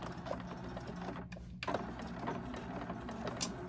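A sewing machine backstitching to lock a seam on a fabric zip pouch, a brief close whirring mechanical run with a short pause partway through, no talking.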